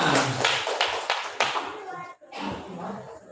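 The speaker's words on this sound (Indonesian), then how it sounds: "Oke, tepuk tangan buat kita semua." Group hand clapping at a digital marketing training session in a village in Klaten, starting as a few loud rhythmic claps and then fading into scattered claps, with a voice talking over it toward the end.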